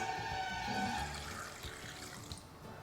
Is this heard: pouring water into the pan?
yes